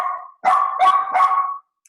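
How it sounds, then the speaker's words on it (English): A dog indoors lets out a short whine and then two or three loud, close barks in quick succession before falling silent. "my dog started barking"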